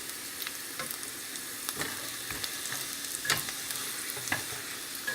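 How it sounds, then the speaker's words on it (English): A leftover spaghetti sandwich sizzles and crackles steadily in a hot frying pan, with occasional sharper pops and scraping stirs, loud and close. "always attend to your food when it's frying"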